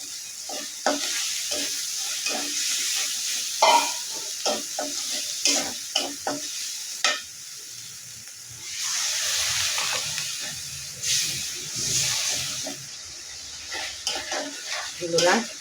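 Shrimp fry with ground coriander and cumin paste in a pan, sizzling steadily while a utensil scrapes and stirs in repeated strokes. Occasional clinks are heard, with a voice speaking briefly at times.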